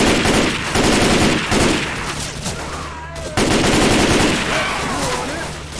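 Loud, sustained automatic bursts from an M4 rifle in the zombie shooter Left 4 Dead 2, rapid shots running almost continuously for several seconds with only a brief break.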